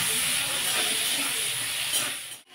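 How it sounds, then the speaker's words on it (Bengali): Potatoes seasoned with salt and turmeric fry in a pan, a loud, steady, hissing sizzle close by that cuts off abruptly near the end. "আলুটা একটু ভেজে নেব"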